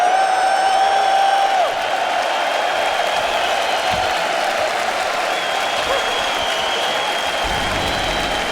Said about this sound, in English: Who is cheering for Heroic? Stand up.